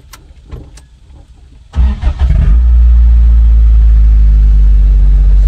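A classic Toyota truck's engine cranks and catches after a quiet moment with faint clicks, then settles into a loud, steady, close idle that runs without pause.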